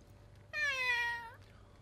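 A voice imitates a cat, giving a single drawn-out meow that is clear and close, about a second long, with quiet around it.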